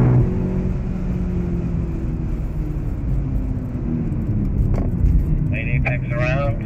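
A 2015 BMW X6 M drives flat out around the Circuit of the Americas race track, its engine humming in a steady loud drone with rising pitch, while a person talks over it.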